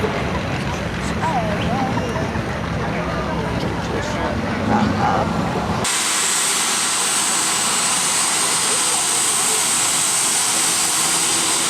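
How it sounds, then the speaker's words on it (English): A Westinghouse J85 jet engine running, a steady broadband roar with a high whine that shifts abruptly partway through into a brighter, hissing tone, loud and continuous throughout. "here we go, ladies and gentlemen, a J85 Westinghouse jet"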